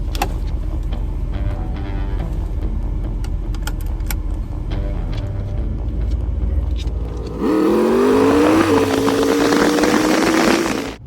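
Camper van engine driving on the road, loud and steady throughout, a rising motor whine with gear-like pitch sweeps after a quieter rumbling start.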